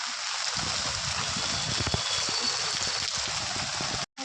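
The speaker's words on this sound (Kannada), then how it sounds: "ಜೋರಾಗಿ ಮಳೆ ಬೀಳ್ತಾ ಇದೆ" Heavy rain falling, a dense steady hiss of drops on surfaces throughout, moderately loud and continuous, with a brief dropout near the end and no talk.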